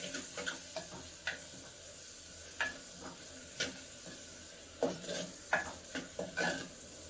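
Masala powder, cloves and cinnamon are stirred into seelavathi fish curry in a clay pot: a quiet simmering hiss with irregular scraping strokes and knocks of a spoon against the earthenware.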